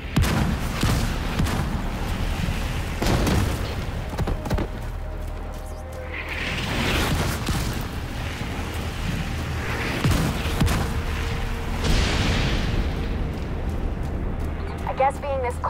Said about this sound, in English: Blow them to hell. Fire everything we got.